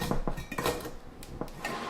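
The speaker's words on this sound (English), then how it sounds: "use a spoon or a spatula and release it from the tray" A spoon or spatula scrapes and taps against a baking tray to loosen a condensed milk crumb pudding, making a string of quick close clinks and scrapes at a moderate level without talking.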